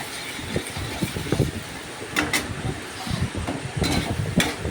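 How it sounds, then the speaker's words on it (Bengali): Egg pieces sizzle and fry in a pan while being broken into small bits for Bengali egg bhujia, with a steady close crackle and scattered scraping and stirring knocks. "তো দেখো, এবার আমি ভাজছি"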